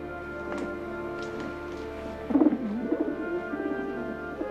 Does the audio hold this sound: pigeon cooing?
yes